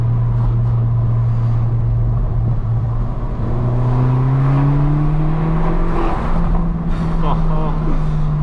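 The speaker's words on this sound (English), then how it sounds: "I hope you can hear these crackles because they sound insane." Inside a straight-piped BMW 1 Series on the move, the loud exhaust drones and rises under acceleration, with sharp crackles popping through near the end.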